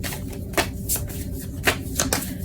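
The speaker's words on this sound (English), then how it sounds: "I'm going to pull" Tarot cards shuffled by hand, a quick series of crisp riffling bursts and soft slaps, close and clear with no talking.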